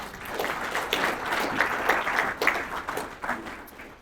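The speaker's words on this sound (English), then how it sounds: "please give them a round of applause" An audience at the Pryor Area Chamber luncheon applauds the Mid-America Grill caterers, a steady room-filling clapping from many hands that continues for several seconds.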